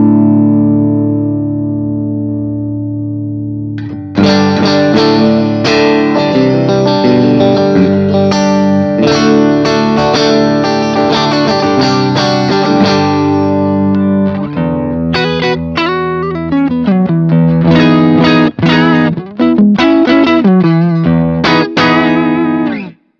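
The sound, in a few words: electric guitar through BOSS GT-1000 amp model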